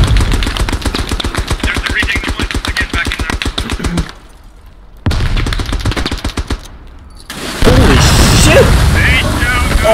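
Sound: machine gun suppressing fire in WW1 video game, Comble 1916 map

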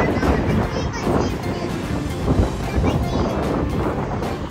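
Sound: icy wind blowing outdoors

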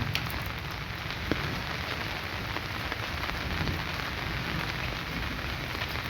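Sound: light rain falling

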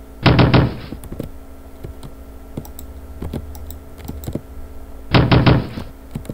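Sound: knocking on a locked door in video game Ding Dong Ditch

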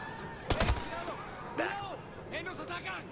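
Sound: gunshots in the video game Ghost Recon

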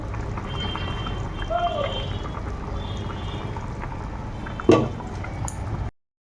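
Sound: mustard oil poured into hilsa fish curry

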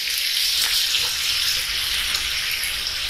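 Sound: pork belly added to a pot of fermented fish broth

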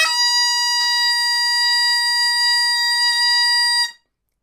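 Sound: Campbell tunable bagpipe chanter playing high A, flattened

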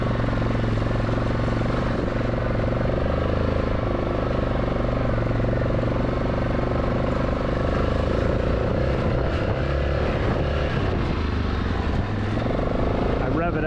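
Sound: vehicle revving and spinning wheels in mud

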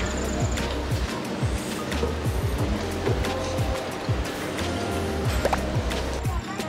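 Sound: ocean waves in front of a seaside cafe in Okinawa

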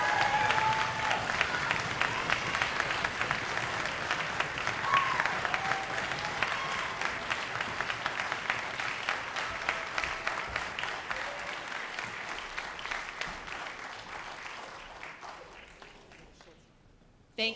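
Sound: audience applause for theater directors on stage

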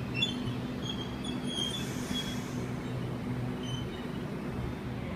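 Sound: Sydney Trains Waratah A50 train departing platform

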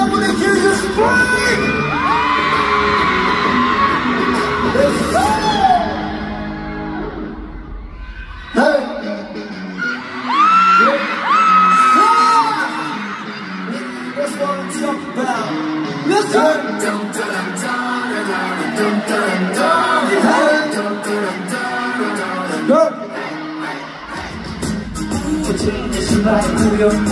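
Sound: concert crowd screaming at Oakland Arena

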